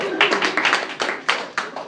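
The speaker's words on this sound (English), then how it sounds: "give her a round of applause" A small group claps in quick, uneven bursts, close and moderately loud, fading out after a couple of seconds.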